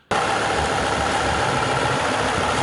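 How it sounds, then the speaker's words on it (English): A VW Touareg V10 TDI diesel idles steadily, a dense, even engine rumble that starts abruptly at the beginning and holds unchanged, loud and close, with no talking over it. "It does sound like a diesel."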